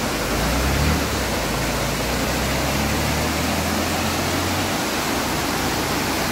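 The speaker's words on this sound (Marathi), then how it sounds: "तर तुमका दाखवते धबधबो कसं भारी येतो." A waterfall beside a ghat road, a loud, steady roaring wash of falling water that fills the whole scene continuously, with a low rumble fading partway through and no speech.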